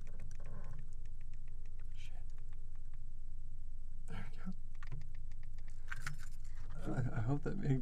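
A ring of metal keys jangles up close in a quiet room, with scattered light clinks and taps, then a louder rattling burst near the end, and a low steady hum underneath.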